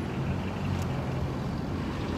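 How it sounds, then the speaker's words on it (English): Dense traffic noise from many passing cars fills the scene as a continuous, fairly loud roar with a low rumble and no clear gaps between vehicles. "There's so many cars, I don't know if you can hear"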